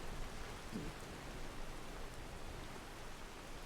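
Rain falls as a torrential downpour in a fantasy video game, a steady soft hiss of pouring rain that holds evenly throughout and sits faint in the background with no talking.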